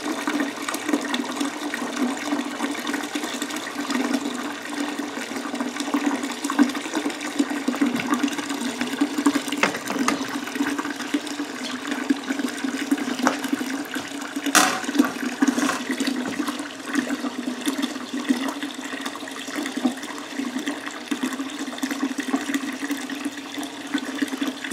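Home-brewed wort for an ale pours and splashes steadily into a fermentation bucket to aerate it, a loud, continuous rushing of water that carries on alone with no voices.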